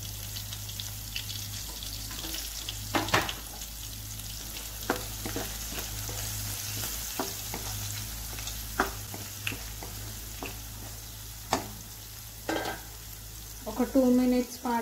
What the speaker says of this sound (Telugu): ఒక 2 మినిట్స్ పాటు ఫ్రై అవ్వనివ్వండి పచ్చిమిర్చి.